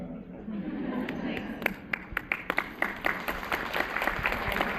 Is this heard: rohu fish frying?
no